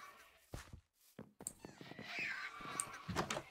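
Seagull calls from a fantasy video game, several harsh cawing cries scattered over a few seconds with game sounds and some talk around them.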